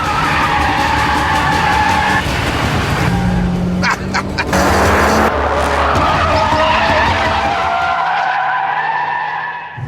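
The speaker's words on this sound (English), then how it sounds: "the engine in this FQ360 model is such a tower of power, it can keep all 4 wheels spinning endlessly" A Mitsubishi Evo X FQ360 screeches with a sustained loud tire skid as all four wheels spin, the engine roaring underneath for several seconds before the noise fades at the end.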